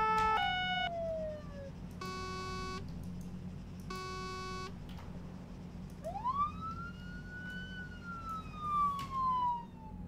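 A police car siren in the Arma 3 video game, with short buzzing horn blasts and falling yelps, then a rising and slowly falling wail over a steady engine hum.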